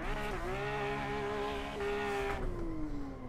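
An RWB Porsche drift car in Assetto Corsa holds a long e-brake drift, with a sustained tire squeal and a steady engine drone, loud and continuous throughout.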